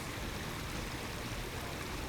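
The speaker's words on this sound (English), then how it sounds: "Turn that water on. There's the hot water and the cold water." Water runs steadily from a newly installed Feelso dual-spout kitchen faucet, a continuous soft rushing stream with no breaks, heard alone.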